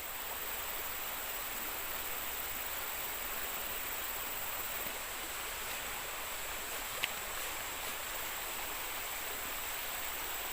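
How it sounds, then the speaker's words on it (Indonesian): River flowing steadily, a broad, even rush of water holding constant for the whole stretch with one tiny click, no voices. "Ini mah sungai, Guru."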